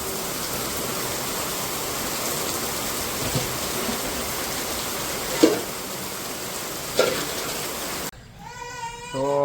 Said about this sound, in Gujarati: આ તો આજ આખો દિવસ વરસાદ પડ્યો